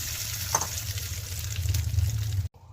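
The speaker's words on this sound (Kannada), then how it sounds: "ಈಗ ನೋಡಿ ನಾನು ಒಗ್ಗರಣೆನ ಚಟ್ನಿಗೆ ಸೇರಿಸ್ಕೊಳ್ತಾ ಇದ್ದೀನಿ" Hot mustard seed tempering poured into chutney, giving a burst of close, crackling sizzle that continues steadily over a low hum before cutting off abruptly.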